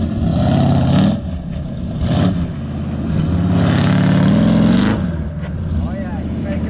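An off-road vehicle's engine revs hard and loud as it makes a run through deep sand on a difficult rescue trail, with the revving surging and easing under excited talk.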